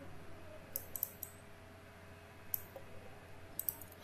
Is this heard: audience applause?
no